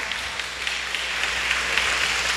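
Church congregation at a Sunday service applauding, a dense steady wash of many hands clapping at an even level throughout, with no voices over it.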